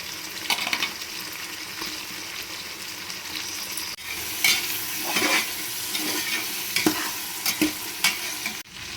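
Onion, tomato and cut potato sizzle and sauté in a pan, a continuous close frying hiss broken by repeated scrapes and clinks of a spoon stirring against the pan.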